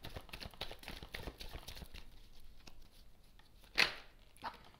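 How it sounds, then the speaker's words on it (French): Three tarot cards are drawn from a deck: a string of soft, close card flicks and taps, then one louder slide-and-snap near the end, with no talking. "Allez, j'y vais, je prends 3 cartes."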